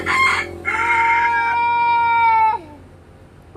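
A rooster crows loudly and close by, the long call rising and falling, with chicken clucking at the start and a brief cluck again at the end.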